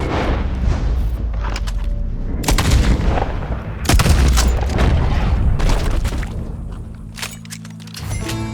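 Gunshots ring out in the Red Dead Redemption 2 video game: several loud, booming shots at irregular intervals, close and heavy, over a constant dense layer of game noise.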